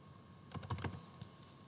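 A short burst of computer keyboard typing, several quick close keystrokes clustered together followed by a couple of lighter taps, with no talking.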